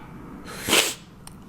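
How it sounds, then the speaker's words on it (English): A single sharp sneeze bursts out indoors, a quick breathy hiss that swells and fades in under half a second, followed by a faint tap. "So I'm about to sneeze."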